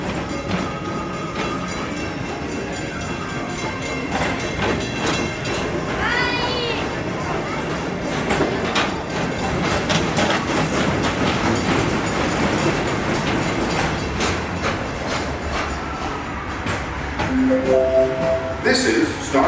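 A Disney PeopleMover ride vehicle glides along its elevated Tomorrowland track at Magic Kingdom, giving a steady rumbling, clattering ride noise throughout, with background chatter and an announcement voice over the top.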